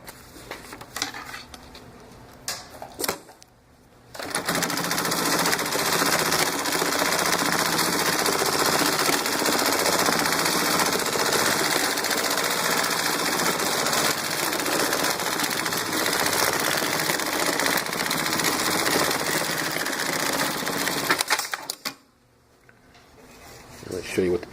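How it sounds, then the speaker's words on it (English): A BAS326 industrial programmable pattern sewing machine stitching with 207 thread, a loud continuous mechanical rattle lasting about eighteen seconds, with quieter handling clicks before and after. "now we're ready to sew"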